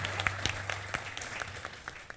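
Scattered, uneven hand clapping from a small comedy show studio audience, brief and fairly close, with no one speaking.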